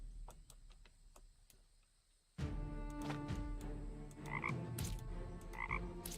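Frogs croak repeatedly in a video game, a steady chorus of clicky calls that starts faint and grows louder and busier partway through, alone with no talking.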